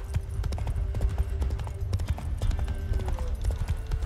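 Horse hooves clip-clop at a steady, quick riding pace in the video game The Witcher 3, close and continuous, with no talking over them.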